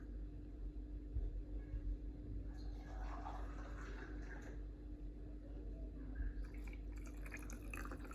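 Water is poured onto curd in a mixer jar for buttermilk mattha, with faint, close trickling and splashing in two short bursts over a quiet background hum.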